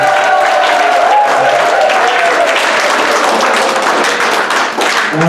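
Wedding guests applaud loudly and steadily at a marriage ceremony, a dense wash of clapping from a large crowd that runs throughout with brief tonal voices or whistles early on.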